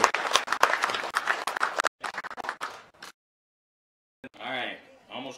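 An audience at a Potawatomi tribal honoring and remembering event claps in a brisk burst of applause that breaks off abruptly, then a short silence follows and a voice resumes speaking.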